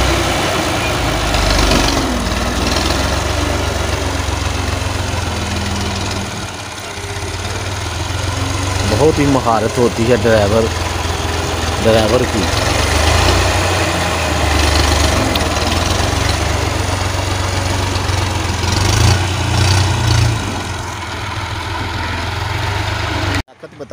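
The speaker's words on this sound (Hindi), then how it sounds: "बहुत ही महारत के साथ ट्रैक्टर को आगे पीछे लेके जाते हैं" An old Massey Ferguson 240 tractor engine rumbles steadily near a water-filled pit, a low, continuous diesel drone that runs throughout while someone talks over it.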